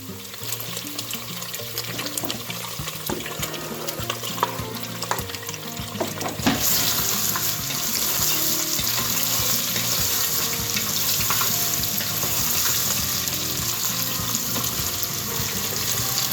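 Garlic frying in a pan for Filipino potchero, a steady hiss of sizzling that swells partway through and then holds loud and continuous, with faint clinks of stirring.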